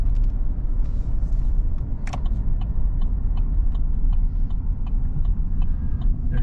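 A 1966 Chevrolet C20 truck rolls up to an old Mayflower trailer, giving a steady loud low engine and road rumble with faint clicks and rattles on top, close by and continuous, with no talking.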